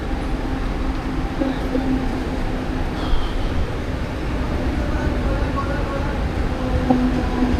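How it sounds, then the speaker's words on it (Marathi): A Mumbai local train pulling into Panvel station: a loud, continuous low rumble of rolling wagons that holds steady throughout, heard close up. "आता आपली ट्रेन आलेली पनवेल"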